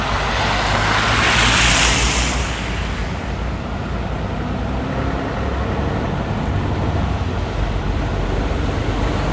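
Steady, loud rushing and splashing of vehicles driving through deep flood water on streets in Ferizaj, Kosovo, a continuous wash of noise that swells early on, with no talking.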